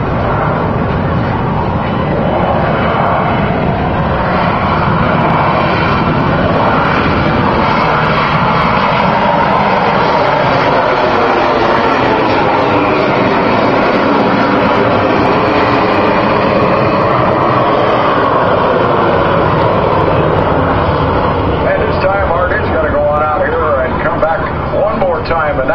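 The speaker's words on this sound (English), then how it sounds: "Get ready for noise you can feel. The Sea Harrier." A loud, roaring Sea Harrier jet hovering at an airshow in the Lehigh Valley fills the whole stretch, steady and overwhelming with rumbling low end, while a voice talks faintly beneath it.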